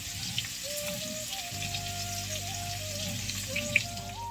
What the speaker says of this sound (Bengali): আলুগুলো কিন্তু আমার লাল লাল করে ভাজা হয়ে গেছে